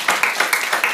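A church congregation claps together during a Wednesday worship service: quick, rhythmic, evenly spaced claps, about five sharp hits in under a second, close and fairly loud.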